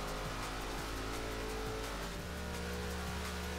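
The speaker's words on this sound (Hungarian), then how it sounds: "Egy picit csúszik az autó" A Ford Crown Victoria police car in Forza Horizon 4 holds a steady engine drone while its tyres hiss and scrub through a slide, the pitch dropping into a lower, heavier rumble partway through.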